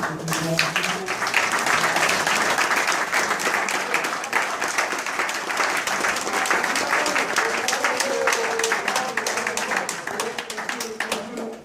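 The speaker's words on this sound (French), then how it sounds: "Si vous pouvez applaudir Geoffrey et JP qui quittent le club" Sustained applause from a gathered club crowd at a seniors' evening, honoring two departing players; steady dense clapping throughout with voices murmuring underneath.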